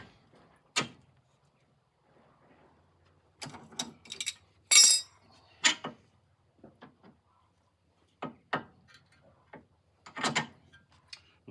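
Nut being nipped up with a spanner on a wheel hub, a series of separate sharp metallic clicks and ratcheting taps with silent gaps between them, close and fairly loud, no talking.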